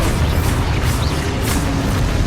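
A loud, continuous rumbling blast from a Confringo curse spell in a wizarding video game, with a steady roar that holds for a couple of seconds without pause.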